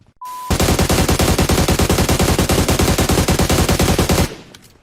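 Automatic weapon fire in the video game PUBG: a loud, steady stream of rapid, evenly spaced shots lasting about four seconds after a brief tone, with no voices.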